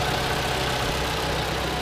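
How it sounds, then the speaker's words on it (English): A 2014 Toyota RAV4 all-wheel drive with a 2.5 liter engine idles under the open hood, a steady, close, even rumble with no revving or voices. "Strong running engine."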